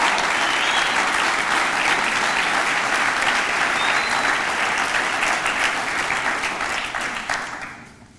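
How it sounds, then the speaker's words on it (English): Sustained, dense applause from a large audience at an annual meeting honoring cyclist Kristin Armstrong, steady and loud before tapering off at the end. "How about another round of applause for Kristin Armstrong?"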